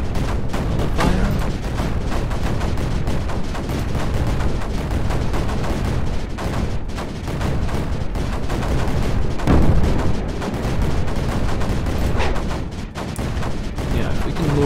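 Cannon fire from the strategy game Creeper World 4: dense, continuous rapid booms and bursts of gunfire layered thickly, loud throughout with no pauses.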